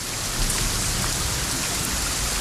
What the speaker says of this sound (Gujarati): આજે મહેસાણા સહિત ઉત્તર ગુજરાતના કેટલાક વિસ્તારમાં ધોધમાર વરસાદ વરસી રહ્યો છે.